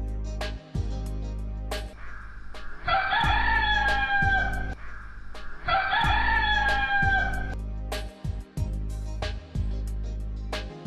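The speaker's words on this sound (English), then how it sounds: "And the hen cackled." A hen cackles in two long, loud bursts separated by a pause, over a steady low background tone.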